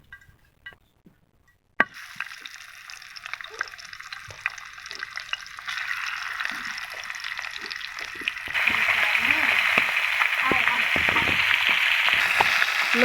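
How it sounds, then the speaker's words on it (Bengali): Pangas fish fries in oil in a frying pan; after quiet clinks, a hissing sizzle starts and grows louder, with voices faintly in the background. "এখন ফ্রাই প্যানে মাছটা ভাজার জন্য দিয়ে দিব"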